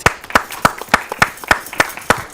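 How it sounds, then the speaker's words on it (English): A handful of people clap close by in a loose, uneven rhythm, sharp distinct claps spaced a fraction of a second apart with no talk over them. "Let's clap it up."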